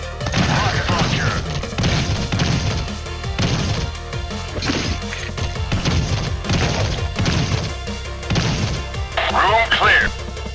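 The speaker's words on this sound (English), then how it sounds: "Rocket launcher." Rocket launcher fire in the Xeno Crisis arcade shooter, a rapid run of loud crashing blasts and thuds over busy game music and effects, with game voice callouts mixed in.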